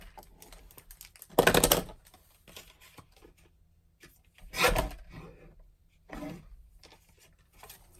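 A paper trimmer slices cardstock in three separate bursts of rasping, scraping cuts, each about half a second long, against a quiet background with faint handling noises in between.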